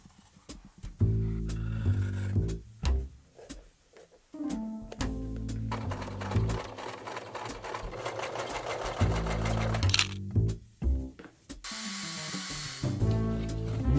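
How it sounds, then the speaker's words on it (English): A restored 1980s Latvian moped runs with a steady mechanical whirr from the gears in its clutch, a close buzzing drone that rises and falls in pitch with brief pauses and revs, with no voices. "That whirring sound of gears in the clutch makes me remember my childhood."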